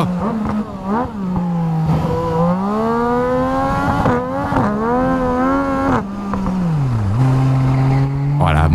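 A Yamaha MT-09 motorcycle with a quickshifter revs hard, its engine note climbing and dropping through several rapid upshifts and a downshift, close and loud, with a voice talking over it.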